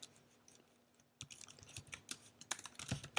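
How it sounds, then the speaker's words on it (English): Typing on a computer keyboard while setting up a custom heading on a landing page: after a quiet start, a close run of quick, irregular key clicks with no talk. "I'm going to start typing"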